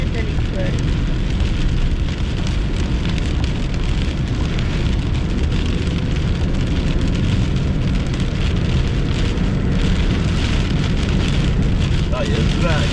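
Heavy rain from a June thunderstorm pours steadily and loudly throughout, a dense continuous hiss of drops drumming on surfaces, with wind gusts mixed in.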